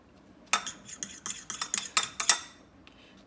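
Utensil stirring cornstarch into a mixture in a bowl, a quick run of close, bright scraping clinks about one every quarter second that fade after a few seconds.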